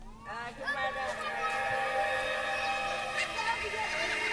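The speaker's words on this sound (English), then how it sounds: "You can hear that it's just added some resonance and some interesting sounding symbol type builds into" A recording of children playing, processed through an Omnisphere 2 resonant cymbal effect, turns into sustained ringing metallic tones that swell and hang like a shimmering, siren-like drone, with faint voice traces underneath.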